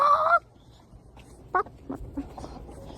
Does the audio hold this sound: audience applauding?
no